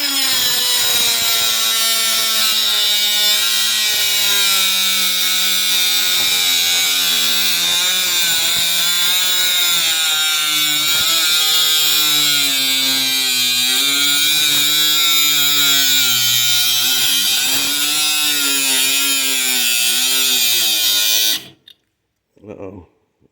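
A battery angle grinder cuts metal clamped in a vise with a steady, loud, high whine that wavers under load for about twenty seconds, then abruptly cuts out.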